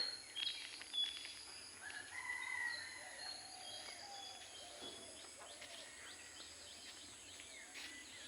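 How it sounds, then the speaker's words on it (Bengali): In a village in the early morning, birds chirp in a few faint, scattered calls over a quiet outdoor background. "কিচিরমিচির পাখিদের শব্দ"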